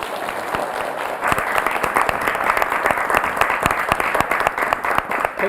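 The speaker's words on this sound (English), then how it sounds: "A round of applause for Ezefua Erabo." Audience applause greets a guest called up to the stage at a live debate event, a dense, steady wash of clapping that swells after the first second and continues strongly throughout, with no talking.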